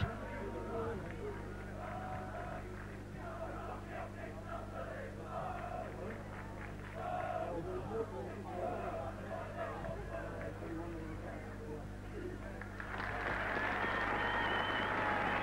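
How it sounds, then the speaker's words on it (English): A large rugby league crowd at a 1993 New Zealand vs Widnes match murmurs and chants under a commentator's voice, then applause swells up loudly near the end. "tremendous round of applause"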